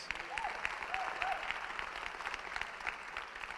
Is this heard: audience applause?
yes